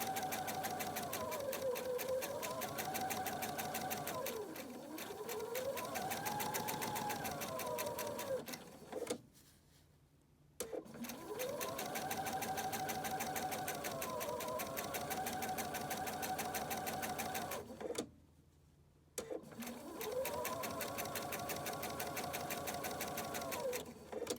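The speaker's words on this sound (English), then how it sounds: "I'm going to stitch slow here because my camera is attached to the table that my sewing machine" Domestic sewing machine stitching slowly on a table, a steady mechanical whirring hum in long runs, stopping twice for about a second before starting again.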